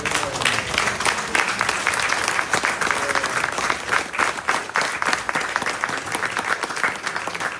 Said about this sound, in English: on behalf of Freddie, let us give him a round of applause.